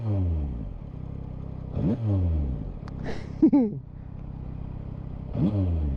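A twin-cylinder Yamaha motorcycle, a 2024 Tracer 9 GT+ or MT-09, revs loudly nearby, its engine note climbing and dropping through several throttle blips and gear changes.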